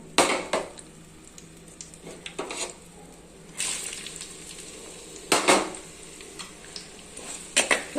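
Chopped onions go into hot oil with cooked brinjal for brinjal thokku, sizzling softly. A spoon stirs and scrapes the pan in short, irregular bursts, close by and with no talking.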